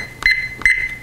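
A ThermoWorks Smoke wireless cooking thermometer sounds its alarm, two short, loud, shrill electronic beeps spaced evenly and close up, with nothing else heard.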